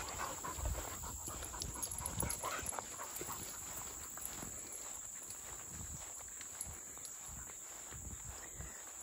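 Two dogs walking off lead outdoors pant quietly and rhythmically, with soft footfalls and rustling, faint and fairly distant throughout.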